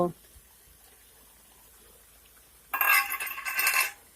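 Fried cauliflower and potatoes tip into a pan of wilted spinach with a sudden clattering, sizzling rush of sound after a quiet stretch, lasting about a second and a half.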